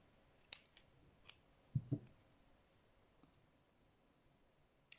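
Scissors snip through dryer sheets in a few quick, crisp cuts, close and fairly quiet, spaced irregularly with short pauses between.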